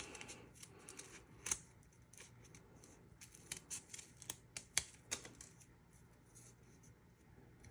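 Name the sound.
scissors cutting paper for a snowflake snowman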